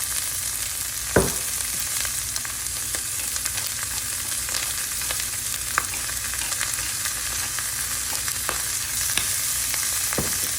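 Fresh corn kernels seasoned with salt and pepper fry in a pan with a steady, close sizzle and scattered crisp pops and ticks throughout, no voices.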